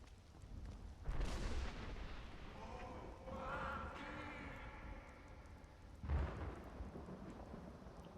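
Night rainstorm in Skyrim with two deep rolling thunder booms, one near the start and another later, over a steady hiss of rain; a faint voice murmurs briefly in between.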